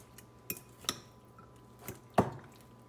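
A fork mashing soft avocados for guacamole in a bowl, a few sparse, quiet taps and clinks against the dish, with one heavier squishy knock near the end.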